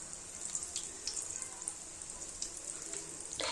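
Balls of raw banana, onion, ginger and garlic fry in a pan over medium heat, giving a steady close hiss dotted with small crackles and pops throughout.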